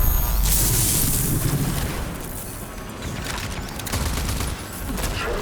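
Assault rifle gunfire rattles in a video game, a loud dense burst of rapid shots and booms that fades slightly, then swells again into more firing.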